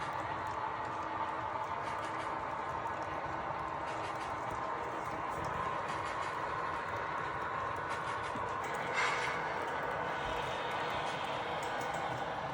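A model freight train, C90, runs through a scenic valley section of a layout, giving a continuous even rumble and rattle of wheels on track throughout, fairly close, with no voices.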